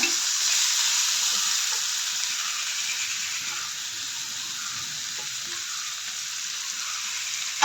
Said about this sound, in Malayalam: ഇനി നമുക്ക് ഈ എണ്ണയിലേക്ക് നമ്മുടെ ഉള്ളി ചേർത്ത് കൊടുക്കാം.